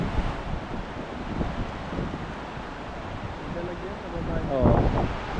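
Gusty wind buffeting the microphone outdoors, a steady rushing roar that swells near the end, with people talking underneath.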